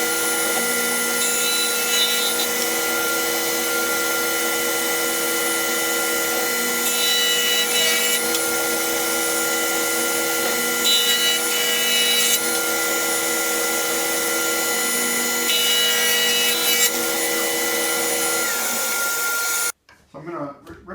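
A table saw rips a wooden board lengthwise, a loud steady whining buzz with slight changes in pitch as the cut goes on, stopping abruptly near the end, followed by a few faint knocks.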